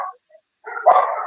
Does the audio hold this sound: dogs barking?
yes